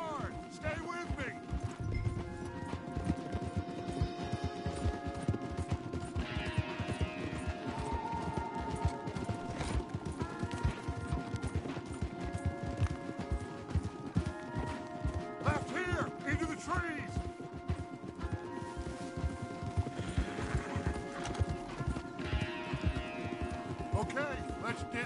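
Horses gallop in the Red Dead Redemption video game, a steady clip-clop of hooves with creaks of tack and occasional whinnies under ongoing dialogue and game music.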